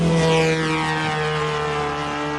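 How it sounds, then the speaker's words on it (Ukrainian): An attack drone flies overhead in a war zone, giving a loud, continuous propeller buzz with a steady engine whine that shifts slightly in pitch as it passes. No voices are heard. "це безпілотник"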